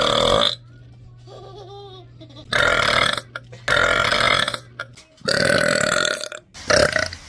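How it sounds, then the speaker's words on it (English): A child lets out a loud, long burp, followed by more drawn-out belches and bursts of laughter, close and intimate, with a voice faintly in the background. "Are you making a burp show?"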